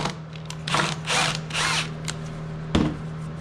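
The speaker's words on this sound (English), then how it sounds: "Get your 1/2-inch drill bit, just hog her out." A power drill with a 1/2-inch bit hogs out a part on a GMT400 Chevy/GMC truck LS swap, running in three short whirring bursts up close, then a sharp clunk.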